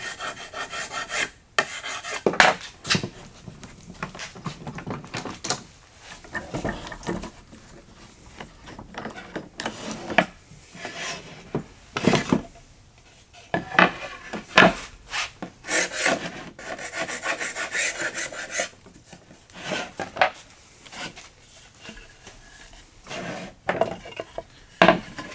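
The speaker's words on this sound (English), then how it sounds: "I'll just scrape off any of the excess glue and remove these boards from the clamps" A scraper rasps excess dried glue off glued-up wooden boards still held in clamps, giving repeated irregular scraping strokes with short pauses, close and fairly loud, with no talking.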